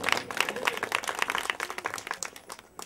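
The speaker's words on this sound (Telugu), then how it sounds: "చప్పట్లు కొట్టండి." A church congregation at a Christmas worship service claps in quick, uneven bursts, many hands near and lively, with the clapping thinning out toward the end.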